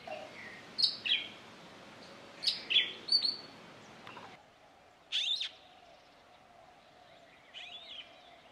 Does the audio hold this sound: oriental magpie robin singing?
yes